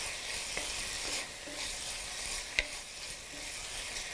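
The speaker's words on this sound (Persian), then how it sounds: "من اینا رو خوب مخلوط میکنم" A utensil briskly stirring and mixing beaten egg with black pepper, garlic powder and onion powder in a bowl for egg rolls, steady close scraping with a couple of sharp clinks, no voices.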